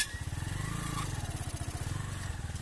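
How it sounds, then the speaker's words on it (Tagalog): Workers' motorcycles idle nearby at a creek-side spot, a close, steady low pulsing engine putter that holds even throughout, with faint voices in the background. "Ito mga motor ng mga gumagawa dito."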